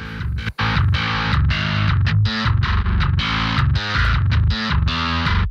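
Heavily distorted djent bass guitar processed through plugins hammers out tight, syncopated low chugs over driving drums, loud and saturated after a brief drop at the start.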